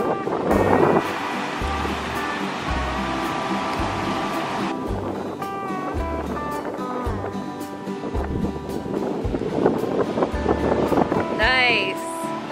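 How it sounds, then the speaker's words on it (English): Ocean surf breaking at a Hawaii beach, a steady broadband wash of water with wind buffeting the microphone, swelling louder near the end, while people talk over it. "Demonstrate the first wave, Josh."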